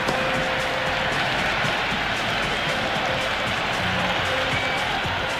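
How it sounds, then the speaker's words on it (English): Steady, dense crowd noise fills a cricket stadium in the Cricket 26 video game during an IPL match between KKR and DC, a constant loud roar without clear breaks. "The crowd are really getting quite raucous."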